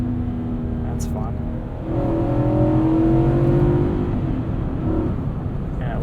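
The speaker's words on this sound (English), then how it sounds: "Manually downshift gears too. It'll give you a little bit of a blip from the throttle." A 2021 Infiniti QX80 Premium Select engine blipping up after a manual downshift, a steady cabin drone that swells into a rising, smooth rev and then settles back.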